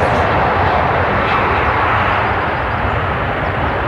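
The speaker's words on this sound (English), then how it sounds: "And that's an engine failure." Engine failure in a flight simulation plays as a dense, constant roar of aircraft engine noise with no breaks or changes, loud and close for the whole stretch.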